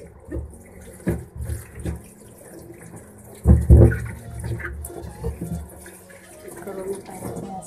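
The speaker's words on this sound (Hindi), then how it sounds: "मैंने केले ली थी, उनको मैं वॉश कर लेती हूँ अच्छे से" Tap water runs and splashes in a sink while bananas are washed under it, with close knocks and handling thumps over the steady stream and a voice speaking at times.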